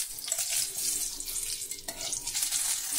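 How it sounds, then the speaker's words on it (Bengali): Eggplant frying in mustard oil, a dense steady sizzle and crackle of hot oil with faint scraping of stirring throughout, close and moderately quiet. "এখন চলো বেগুনটা ভেজে নিই।"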